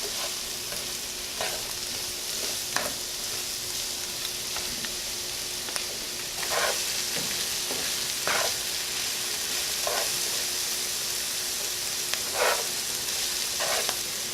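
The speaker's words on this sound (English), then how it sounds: "we're just keeping an eye on our vegetables as they saute and combine." Vegetables for keto turkey fricassee sauté in a pan with a soft, continuous sizzle, broken by occasional stirring scrapes and taps, with no talking.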